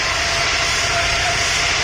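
Airplane engine roaring steadily through takeoff, heard from inside the cabin as a loud, continuous broadband rumble with a faint tonal whine, with no voices over it.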